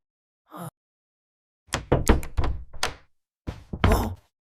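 Knocking on a door, two clusters of several quick, solid raps close by, separated by short pauses, with a faint short sound at the start and otherwise silence.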